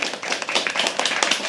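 An audience at a live poetry open mic claps steadily, a dense, loud wash of many hands close by, continuous with no pauses.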